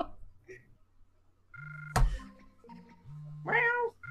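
A cartoonish cat meows in the WarioWare video game, two short electronic-sounding meows separated by a sharp thump, over a quiet synthetic backdrop.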